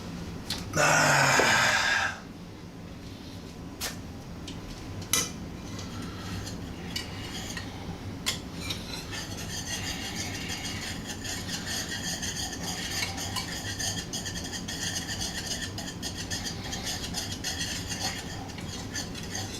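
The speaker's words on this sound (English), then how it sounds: "Continue to stir up this truffle Alfredo sauce." A truffle Alfredo sauce being stirred in a pan, with a loud clatter at the start followed by steady scraping and clinking of a utensil against the pan, continuous and close throughout.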